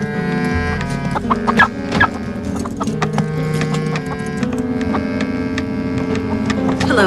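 A chicken clucks in short repeated bursts amid busy background noise, with some muffled hum and clopping sounds around it, fairly close and moderately loud.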